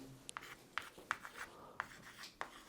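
Pen or chalk writing out chemical formulas for manganese oxides, heard as short, quiet scratchy strokes with small taps at irregular intervals and no talk over them.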